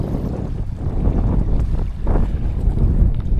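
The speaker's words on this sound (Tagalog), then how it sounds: "malakas kasi ang hangin" Strong wind buffets the microphone in a loud, low rumble aboard a 12-foot Lowe boat, with water sloshing faintly beneath; no voices.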